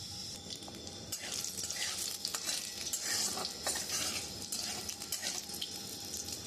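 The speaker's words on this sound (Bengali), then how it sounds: "আমি এই তেজপাতা শুকনো লঙ্কা জিরে আর গোটা গরম মশলা আমি তেলে দিয়ে দেবো" Bay leaf, dry chilli, cumin and whole garam masala crackle and sizzle in hot oil in a wok, with a steady fry under repeated light scraping and tapping of a spoon against the pan.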